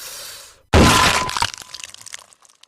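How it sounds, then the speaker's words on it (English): A sledgehammer smashes through a wooden door in a sudden loud crash with a splintering, cracking burst, followed by scattered debris settling and faint rattles; low rumble before the impact. "the sledgehammer came crashing through the center of the door"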